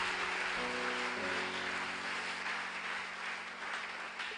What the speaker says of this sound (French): Applaudissez pour le pasteur.